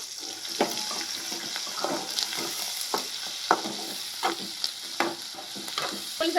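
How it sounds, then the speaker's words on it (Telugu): Cumin seeds sizzle and crackle in hot oil in a frying pan, a close, steady hiss broken by sharp pops and stirring scrapes, with no one talking. "జీలకర్ర అయితే వేసుకుంటున్నాను."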